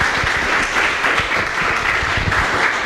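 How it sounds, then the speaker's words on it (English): An audience at a university campus evening event clapping for four panelists on stage, a loud, dense, continuous round of applause from a crowd, with no talk over it. "please join me in giving our 4 panelists on stage a big round of applause for joining us"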